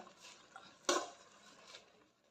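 Soaked moong dal and spring onions stirred in a pan: a quiet scrape and a single clink of a utensil against the metal, with soft shuffling around it.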